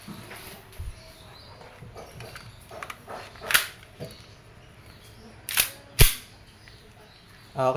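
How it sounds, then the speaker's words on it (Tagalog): A WE P14 1911 Hi-Capa airsoft pistol fired through a chronograph makes several sharp, short pops at uneven intervals over a low hum of room noise. "Okay, testing, chronograph, firing"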